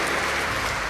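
A university audience at a public lecture claps in a brief, dense burst of applause, steady and fairly loud throughout about a second.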